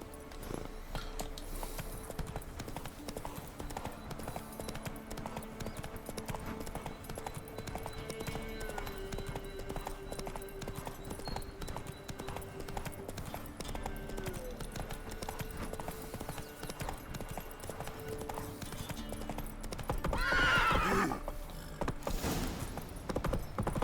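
Steady clip-clop of horse hooves in a quick rhythm in The Witcher 3: Wild Hunt runs throughout, with ambient game music underneath and a brief whinny near the end.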